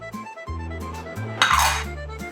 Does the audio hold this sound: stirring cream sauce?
yes